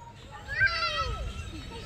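A cat meows once, a drawn-out rising and falling cry close by, with people's voices faintly in the background.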